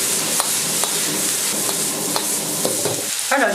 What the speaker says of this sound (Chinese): 倒入花菜，翻炒几下。